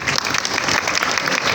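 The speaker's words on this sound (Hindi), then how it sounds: "ज़रा आप पहले तो अपने लिए बहुत ज़ोरदार तालियां।" Crowd applauding during a Next.js responsive design session, a short, loud burst of dense hand clapping with no voices.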